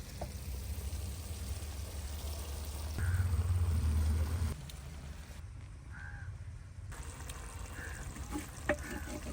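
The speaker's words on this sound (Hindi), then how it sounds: "अब इसमें डालते हैं उबले हुए शलजम पालक।" Boiled turnip and spinach hit hot tempering oil with a loud sizzle that swells briefly, then settles into softer frying while crows caw in the distance.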